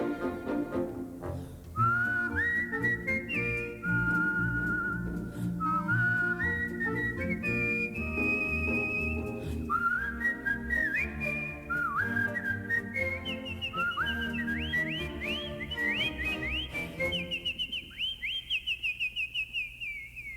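Melodic whistling carries a tune over a full instrumental backing in a song from the musical Camelot, played from reel-to-reel tape, bright rising phrases repeating through the song.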